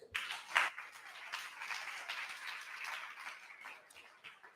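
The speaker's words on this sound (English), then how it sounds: "give him a big round of applause" Light applause from a small conference audience at NixCon Paris 2022, a scattering of claps that holds steady for a few seconds and then thins out.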